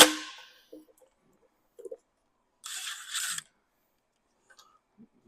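A ratchet socket works bolts loose on a 1972 Chevy 350 small-block during disassembly: scattered faint clicks and clinks, then one short, bright ratcheting burst, with quiet metallic taps around it.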